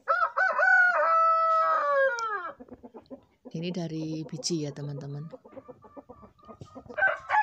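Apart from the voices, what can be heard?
chickens clucking and rooster crowing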